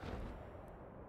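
Artillery gun firing in the tank game World of Tanks, a GW Panther self-propelled gun: a short, low boom with a rumbling tail, heard alone and at moderate loudness.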